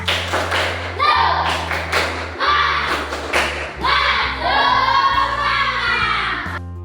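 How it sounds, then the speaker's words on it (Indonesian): Schoolchildren perform a rhythmic spirit clap led by a classmate: loud, close bursts of claps and thumps in a quick patterned beat, with young voices chanting along between and over the clapping. "Sekarang coba tepuk semangat dulu, dipimpin dari Putri."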